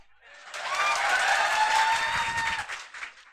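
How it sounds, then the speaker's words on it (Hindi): Classroom audience at a civil services coaching class claps loudly for two people, a short burst of many hands rising quickly, holding about two seconds, then trailing off. "एक बार दोनों के लिए जोर से ताली बजा दीजिए तो।"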